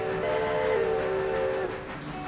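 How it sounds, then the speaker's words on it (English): Steam-style train whistle in the Starline Railroad video game, a single sustained multi-tone chord blowing for about two seconds, loud and close, with a slight pitch shift midway before fading out. "the whistle's pretty cool sounding"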